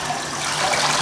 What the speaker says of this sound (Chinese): 这个菠菜洗干净，